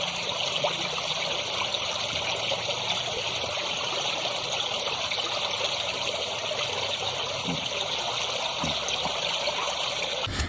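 Water of the Oyo river in Indonesia, near its confluence with the Opak, flows and trickles in a continuous, even rush, moderately loud and close, with no voices.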